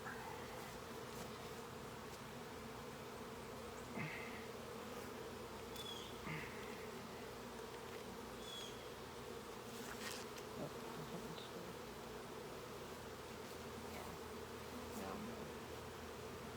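Honey bees buzz steadily around an open hive during a queen inspection, a dense continuous drone close by with individual bees whirring past now and then; no one speaks.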